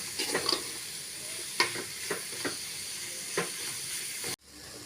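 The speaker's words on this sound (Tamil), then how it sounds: "இந்த மசாலாவோட பச்சை வாசனை போகிற வரைக்கும் நல்லா வதக்கி விட்டுக்கலாம்." Masala for egg curry sizzles in a hot pan while a spoon scrapes and stirs it in a few distinct strokes; the frying hiss cuts off abruptly near the end.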